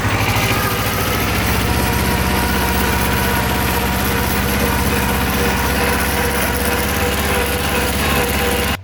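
Kubota tractor engine pulling off in third gear, a steady loud mechanical drone with rapid rhythmic chugging that stays constant throughout, no talking.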